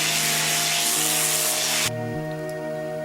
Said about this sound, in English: And use an orbital sander to clean up the back face.